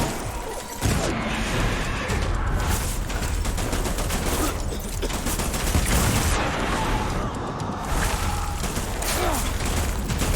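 Gunfire in Death Stranding: dense, continuous bursts of shots and mechanical clatter fill the whole stretch, loud and close, with a sharp onset near the start.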